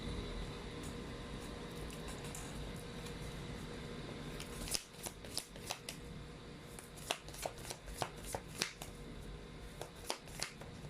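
Tarot cards are shuffled with a soft continuous riffle, then a run of crisp snaps and flicks follows as cards are drawn and laid down one after another, all close and quiet with no talking.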